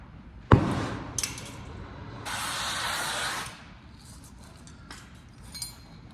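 A torch heating a wheel rivet gives a steady hissing roar in bursts, with a sharp metallic clink near the start and a louder sustained blast midway, then quieter hiss.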